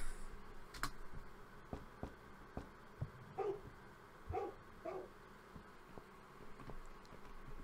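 A dog barks a few times in The Cat Lady, a horror adventure game. The barks are faint and distant, sitting in a quiet, hissy background with scattered soft clicks.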